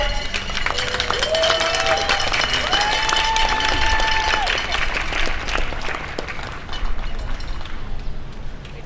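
An audience claps in steady applause for Armando, a Kona coffee farmer from Aloha Latinos, at a May Day workers' address, a dense continuous crowd wash with a few whistle-like tones riding over it.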